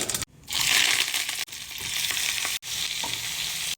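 Onion, curry leaves and a small tomato hit hot oil with mustard seeds for a tempering, bursting into loud, close sizzling that cuts out briefly between bursts, with no voices.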